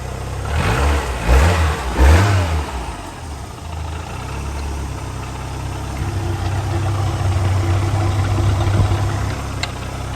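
A 1988 Ford Escort XR3i engine runs steadily at idle nearby, a low even hum with a couple of brief throttle blips early on and a slight swell later, no voices over it.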